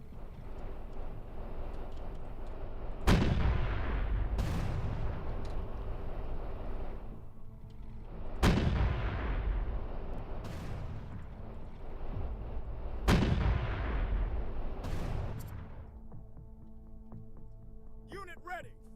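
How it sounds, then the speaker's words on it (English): Heavy gunfire and artillery blasts in a strategy video game arrive as four or five booming shots, each with a long rumbling decay, over a continuous low background roar. "can I cheese this and just shoot into the fog of war?"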